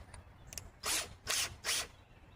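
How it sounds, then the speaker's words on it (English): A power drill with a bigger bit bores into a bolt plug in three short, loud whirring bursts separated by brief pauses, close by. "now I am using a bigger drill bit for this so that when we weld it together"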